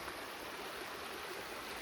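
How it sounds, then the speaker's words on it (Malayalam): A rocky river in rural Pathanamthitta, Kerala makes a soft, even rushing sound, faint and continuous with no voices. "നല്ലൊരു പുഴ ഇങ്ങനെ ഒഴുകി വന്നു"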